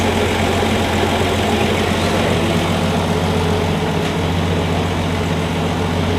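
A 1965 Valiant Slant 6 engine, just back to running after a stalling fault, idles steadily close by with a deep, even rumble that holds without a break and with no talk over it.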